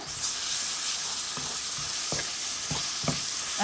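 Onions sizzle steadily in hot oil with garlic, salt and turmeric powder for a bottle gourd and prawn bhuna, a continuous close frying hiss broken by a few soft stirring scrapes, with no talking.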